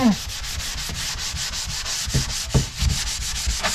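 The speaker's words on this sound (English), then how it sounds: "And now just a fine sanding before the stain." Steady, rhythmic back-and-forth fine sanding on a wooden boat's windlass before staining, a continuous gritty rasp with regular strokes, close up and alone.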